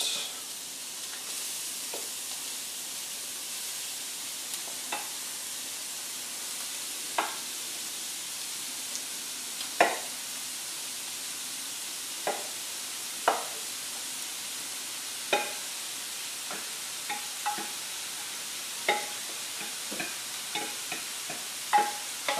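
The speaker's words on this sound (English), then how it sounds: "now that the pan is heated up, I'm going to go ahead and put in all of this cauliflower rice" Cauliflower rice sizzles steadily in a hot pan, with repeated sharp scraping clicks from stirring scattered throughout at an irregular pace, fairly quiet and close with no talking.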